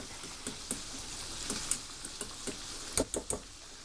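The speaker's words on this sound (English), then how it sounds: "I'm really impressed with how this is frying up" Daikon radish slices sizzle and crackle steadily in a hot pan, with irregular sharp pops and spits over a constant hiss.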